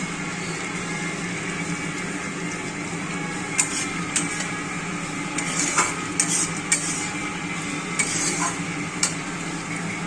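Sliced capsicum and onion fry in a pan for a chili chicken dish, a steady sizzle running throughout with scattered metal clinks and scrapes of a stirring spatula.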